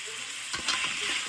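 Tomatoes sauté in a pan for chicken kulambu, a brief close hissing sizzle with a couple of stirring scrapes.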